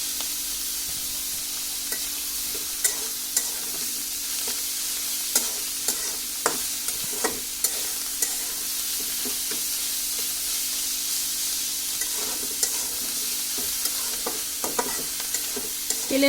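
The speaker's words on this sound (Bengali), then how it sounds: "এখন দিয়ে এটাকে আমি অনবরত নাড়াচাড়া করব।" Spinach and potatoes fry in oil while being stirred continuously, a constant close sizzle broken by scattered scraping clicks of the spoon against the pan.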